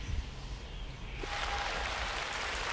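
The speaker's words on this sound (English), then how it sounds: "And applause." Applause from an audience during a livestream swells up partway through and holds steady as a broad, fairly quiet wash of clapping.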